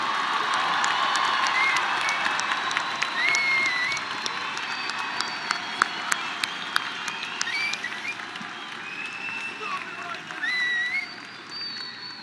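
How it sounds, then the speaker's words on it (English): A graduation audience at the Legacy High School 2023 ceremony breaks into sustained applause and cheering, with whistles and scattered shouts over the clapping, which swells at first and then gradually thins toward the end. "Let's give a big round of applause to the class of"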